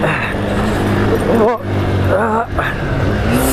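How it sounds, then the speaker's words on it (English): A Royal Enfield Himalayan motorcycle engine revs hard and steady, close up, held in second gear, with pitch rising and dipping briefly as gears shift, in Nepal. "let's keep them revs up"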